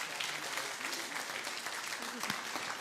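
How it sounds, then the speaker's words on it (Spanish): A church congregation claps together for the Lord during a healing seminar service, a steady dense wash of applause filling the room, with faint voices and a few calls beneath it. "Vamos a dar un aplauso al Señor."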